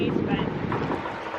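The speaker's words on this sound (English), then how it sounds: "You also can probably tell it's super, super windy." Strong outdoor wind buffeting a microphone in Seward, Alaska, a loud, continuous low rumble with gusty surges throughout the short stretch, and no speech heard.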